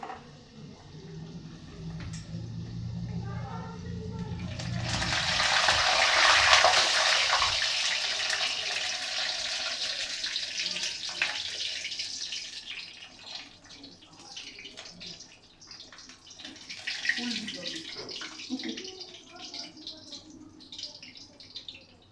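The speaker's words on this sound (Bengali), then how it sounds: "তেল গরম হয়ে গেছে, এতক্ষণ আমার তেলটা গরম হচ্ছিল। এবার আমি কচুরিগুলো এক এক করে ভাজবো।" Kachoris stuffed with jackfruit seed filling are dropped into hot oil, and a loud, hissing sizzle swells after a few seconds before settling into a steadier fry, with someone talking throughout.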